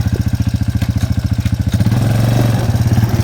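A Suzuki 250cc rear-shaft-drive ATV engine runs close up with a loud, steady, rapid thumping pulse that swells slightly partway through, with no voices.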